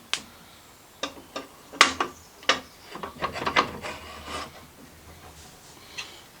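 A Boxford lathe part with its gib strip and locating dowel slides onto the back of the assembly, making a series of scraping metal rubs and sharp clicks and knocks, spaced irregularly and close by.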